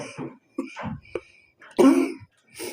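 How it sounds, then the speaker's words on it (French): A few short, harsh coughs and throat-clearing bursts from a sick person, close by, spread over a couple of seconds with brief pauses between them. "je suis encore malade, j'arrête pas de tousser"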